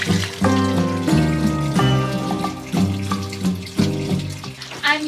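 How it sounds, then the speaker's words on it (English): Laundry being washed by hand under running tap water, with a steady stream splashing into a basin and rhythmic sloshing strokes close by, with no talking. "This is how we hand wash our laundry."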